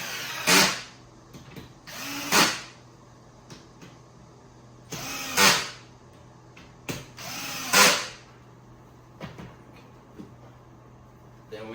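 A power drill drives screws into a car bed platform during assembly, with four or five loud whirring bursts, each rising and cutting off, separated by short pauses with small clicks and handling noise.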